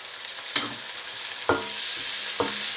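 Ginger garlic paste frying in a pan for baingan bharta, a steady sizzle broken by three sharp scrapes of a spoon stirring, close and fairly loud with no talk.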